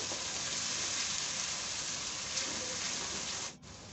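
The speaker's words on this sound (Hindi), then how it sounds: "इसको भी फ्राई कर लेंगे।" Onions with ginger-garlic paste fry in a pan for a gawar phali sabzi, giving a steady, dense sizzle that holds evenly throughout and dips briefly just before the end.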